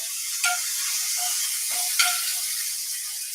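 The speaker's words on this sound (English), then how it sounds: "So listen for the sizzle as we go in." Teriyaki chicken pieces laid into a hot cast iron frying pan, a steady bright sizzle with a couple of sharper crackles as pieces go in.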